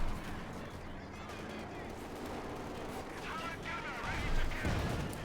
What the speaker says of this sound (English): Panther 4 shoots, misses.